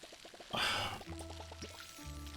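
Water pours into a watering can in the cozy life-sim game Palia: a short, bright gush of filling lasting about half a second, set against light plinking game music and soft chimes.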